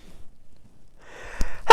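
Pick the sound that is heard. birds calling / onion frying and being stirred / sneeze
sneeze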